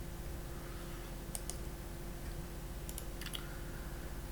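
Small computer mouse clicks come in two quick pairs and then a short cluster of three, faint and close over a steady low room hum while editing in PaintShop Pro.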